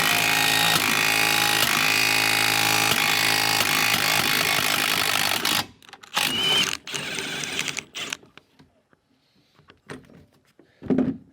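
A tool presses an old suspension bushing out of a Subaru Outback, with loud continuous grinding and mechanical whirring for several seconds, then breaking into scattered clanks, knocks and scrapes as the part comes free.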